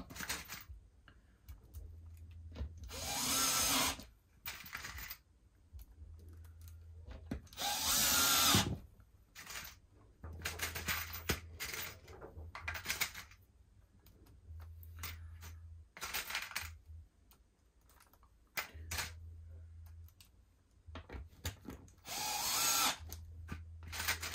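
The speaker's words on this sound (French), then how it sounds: "tu vérifies que la longueur ne dépasse pas et tu vas les visser" Power drill driving screws to fix Packout mounts in bursts, high whirring spins starting and stopping repeatedly with short pauses and small clicks between, close and alone.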